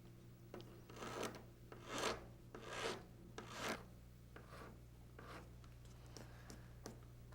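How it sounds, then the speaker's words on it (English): A half round file smooths the bridge of a plastic eyeglass frame in a series of short, quiet rasping strokes, close and irregular, over a low background hum. "the next step is to take a half round file and get into that bridge area and just smooth it out"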